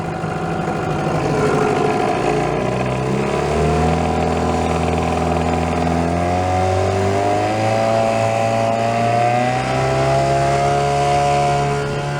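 A 1987 3 hp Evinrude outboard motor runs hard and continuously on a boat, its high-pitched whine climbing and holding steady at full throttle, loud and close throughout.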